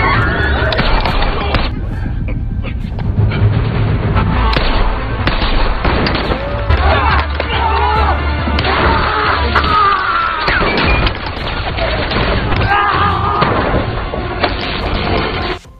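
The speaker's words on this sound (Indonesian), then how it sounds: "Kemudian terjadilah baku tembak di sana." Gunfire erupts during a film shootout, with sharp bangs and crashes packed densely amid loud, continuous action noise and a bright, clipped, muffled quality throughout.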